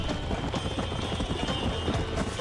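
Hooves of a galloping horse in Red Dead Redemption pound in a fast, steady clip-clop rhythm, loud and close under a constant wash of game noise.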